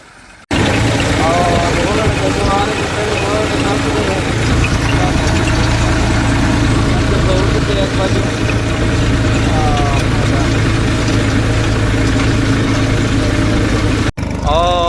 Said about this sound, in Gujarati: આ રીતનું હાલે છે ટ્રેક્ટર.